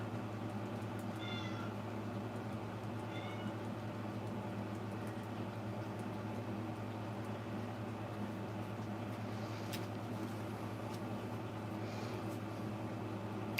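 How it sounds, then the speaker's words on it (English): A cat outdoors meows faintly a few times at a distance, under a steady hum of background noise. "there's a cat out there wanting my attention"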